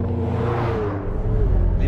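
McLaren 720S supercar driving on a small race circuit at Fay-de-Bretagne, a steady loud engine drone and road rumble throughout, with the engine note rising slightly near the end.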